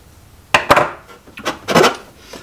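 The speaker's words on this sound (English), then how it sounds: "we'll take our pliers here. I'll tighten this up." A nut is tightened with pliers on a homemade planer board: a few sharp metallic clicks and scrapes, loud and close, in uneven bursts with brief pauses.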